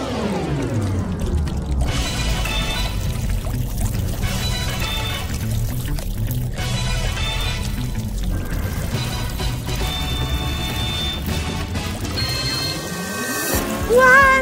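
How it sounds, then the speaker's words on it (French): Cold milk poured over a person in a room, a steady continuous splashing pour lasting about thirteen seconds at a fairly loud level, ending in a brief louder burst. "Ouah, ce lait est froid! C'est une sacrée douche."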